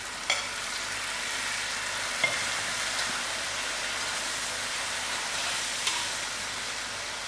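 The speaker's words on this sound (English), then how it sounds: "Then I add in my tomatoes" Tomatoes hit a hot pan of masala for banana kebabs and sizzle in a steady, even hiss, with a few faint clinks of stirring on top and no talking.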